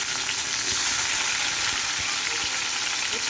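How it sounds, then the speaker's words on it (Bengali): Chopped tomato sizzles and spatters steadily in hot oil in a pan while making egg paratha, a loud, continuous frying hiss with no talking. "তেলটা গরম হয়ে গেছে, এবার কি কি মশলা দেবো দেখাই। আমি এখানে প্রথমে দিয়ে দেবো টমেটো কুচি"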